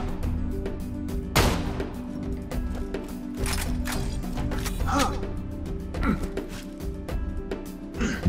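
Gunfire in Borderlands 2 sounds as a steady barrage of sharp shots and mechanical clatter layered over a continuous bed of game noise. A loud burst comes early, then repeated reports follow throughout.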